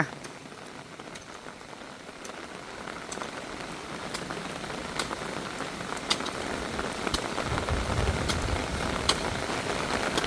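Rain falling on surfaces around a rural Thai home, a steady diffuse patter with occasional sharper drip ticks close by, intensifying slightly over time, no speech.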